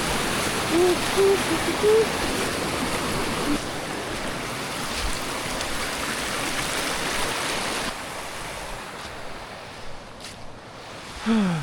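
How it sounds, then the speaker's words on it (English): A continuous rushing of a forest stream fed from a waterfall upstream, close and steady for the whole stretch, easing slightly toward the end with a few faint vocal tones over it. "So that's where that stream comes from"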